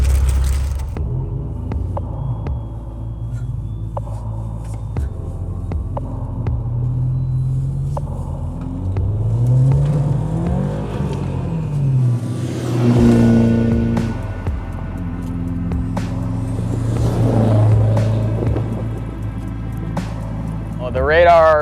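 A car engine warming up on a snowy day idles with a steady low rumble throughout, with a person talking over it and occasional soft rustling nearby.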